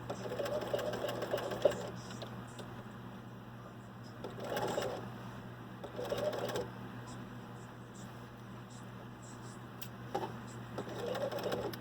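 A sewing machine stitches a shoulder seam and backstitches in short runs of rapid mechanical whirring, separated by pauses, over a steady low hum.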